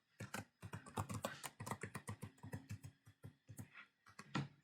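Close, quick keystrokes on a computer keyboard while a password is typed, an irregular run of sharp clicks and taps with brief pauses, no voices.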